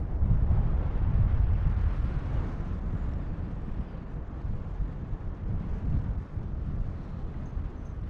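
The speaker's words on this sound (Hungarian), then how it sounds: "Brutál ez a jeges szél." Strong icy wind blowing off glaciers on a mountain buffets and roars across the microphone in a continuous low rumble, gusting slightly louder at the start.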